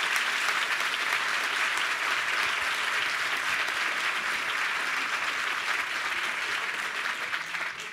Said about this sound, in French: Ouais, on les applaudit